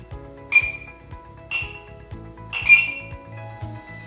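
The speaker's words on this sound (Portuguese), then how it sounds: "Perceba que no final ele emite o bip dos últimos 10 segundos" A LEDTime Sports X3 countdown timer beeps at roughly one-second intervals through its final 10 seconds, bright and clear over a quiet background with soft clicking.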